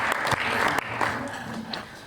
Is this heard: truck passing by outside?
no